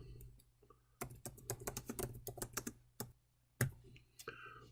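Typing on a computer keyboard: irregular bursts of close, crisp key clicks with short pauses between words.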